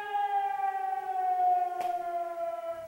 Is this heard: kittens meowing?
no